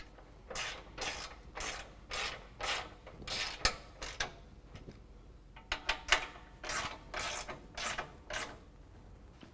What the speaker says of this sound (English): Now we can tighten down our button head bolts with a 7/32 Allen head.